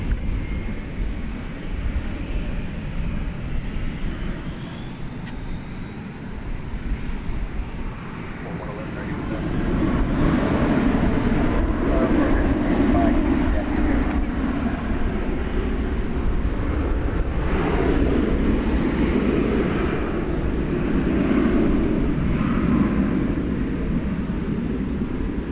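An American Airlines jet airliner takes off from DFW airport at night, a broad engine roar swelling midway and holding loud and steady, with a voice talking over parts of it.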